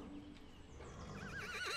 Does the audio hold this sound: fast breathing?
no